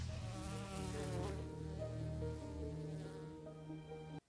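Insect-like fly buzzing from the 1986 film The Fly, a steady, close, droning whine that holds loudly and evenly for several seconds, then cuts off abruptly at the end.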